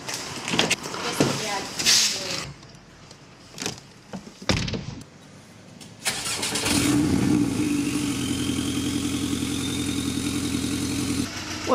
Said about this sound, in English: Today we have 2017 Porsche Boxster S.